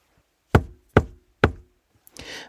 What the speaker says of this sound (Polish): aby zapukać w dębowe drzwi